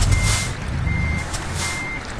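A truck in Euro Truck Simulator 2 sounds steady, evenly spaced reversing beeps over a low engine rumble, with no talk.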